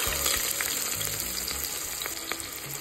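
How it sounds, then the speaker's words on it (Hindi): Chopped onion fries in oil with cumin and coriander on a wood-fired chulha, giving a loud, continuous close sizzle with occasional crackles and stirring clinks, with no talking. "अब हम पकाएंगे प्याज थोड़ी देर, इसको भुनने देंगे अच्छे से, थोड़ी ब्राउन होने देंगे।"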